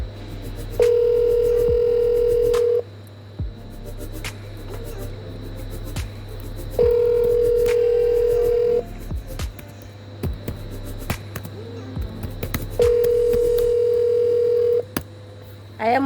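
An outgoing phone call rings unanswered, three long steady ringback tones spaced about six seconds apart over a low constant hum, with faint background noises between the rings.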